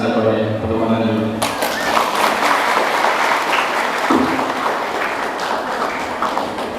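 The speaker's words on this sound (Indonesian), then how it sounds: "Tepuk tangan dulu." A voice speaks briefly, then an audience at an Islamic lecture at a madrasah bursts into loud, sustained applause that continues as a dense, even roar.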